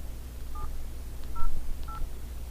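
Telephone keypad tones sound as a PIN is entered into an automated card payment phone line, three short distinct beeps spaced about half a second apart over faint line hiss.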